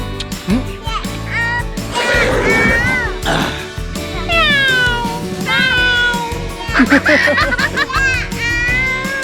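A child imitates cat meows while eating ice cream, giving several drawn-out, wavering mews in a row, with children's voices chattering around them.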